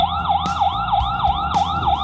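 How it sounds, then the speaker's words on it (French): An outdoor solar-powered security camera sounds its loud electronic siren, a rapid rising-and-falling wail that repeats about every quarter second, close and piercing with no speech. "Et la sirène est assez forte pour déranger votre voisin."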